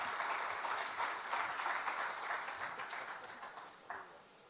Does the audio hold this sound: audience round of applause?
yes